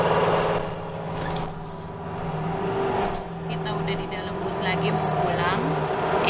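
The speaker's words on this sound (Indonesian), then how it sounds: "Kita udah di dalam bus lagi mau pulang." Inside a city bus riding through a residential street in Germany, a steady engine hum and road rumble carry throughout while someone talks over it.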